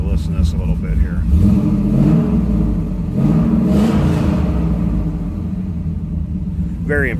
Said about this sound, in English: Very impressive sounding engine.